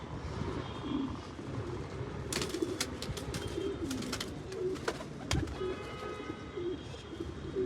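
Pigeons cooing nearby, with repeated soft low coos heard over a steady outdoor background, some sharp clicks or wing flutters, and a distant aircraft engine hum.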